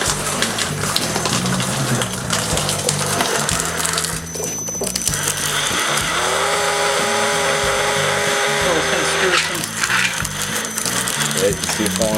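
A Craftsman power drill whirs steadily while driving a cocoa winnower that rattles and clatters with grinding, ratcheting mechanical noise, loud and continuous throughout.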